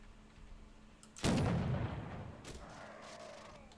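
A single heavy cannon shot booms out in the pirate video game Caribbean!, a sharp blast followed by a long rumbling decay that fades over a couple of seconds with no talking.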